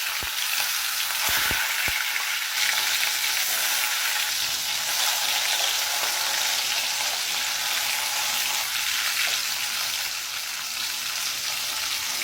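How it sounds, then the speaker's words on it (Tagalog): Milkfish (bangus) frying in a pan, a loud continuous oil sizzle with steady crackling throughout, close up, no talking. "ipiprito ko siya"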